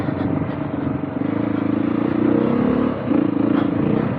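A Beta 390 dirt bike rolls downhill on engine braking, giving a steady, rough low drone with a light rattling clatter over it, close and continuous.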